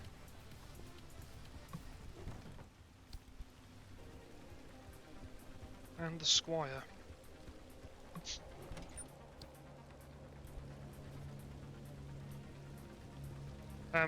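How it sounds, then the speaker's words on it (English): Rain patters steadily in the video game Pacific Drive, a soft hiss of drops spread across the whole scene, with someone talking over it and a few brief clanks from the game. "It is now raining."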